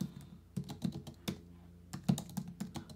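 Quick, uneven keystrokes on a computer keyboard as a ChatGPT prompt is typed, close and clear, with bursts of clacks and short pauses and no talking.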